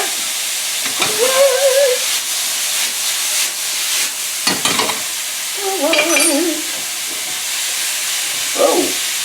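Sausage, broccoli and minced garlic sizzling in a pan for rigatoni and sausage, a loud hissing fry under intermittent stirring and scraping, with a few squealing metal scrapes, close and without talk.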